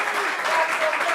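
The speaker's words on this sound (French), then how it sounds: "Mais pourquoi ils applaudissent?" Audience applause at a meeting, a steady moderately loud patter of many hands clapping throughout, with voices faintly audible underneath.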